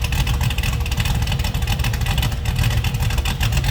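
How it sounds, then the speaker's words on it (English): Deep, loping idle of a 1967 Chevrolet Camaro RS's 383 V8 with a low cam close by, a continuous heavy rumble with a slightly uneven, choppy rhythm. "Good sounding car. Sounds healthy, no doubt."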